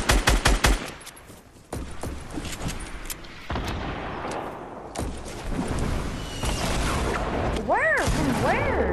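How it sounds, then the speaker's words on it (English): Gunfire erupts in a video game match, a rapid burst of close shots at the start followed by further firing, swooshes and effects, with players talking over the action. "Oh, they're getting shot at. They're getting shot at."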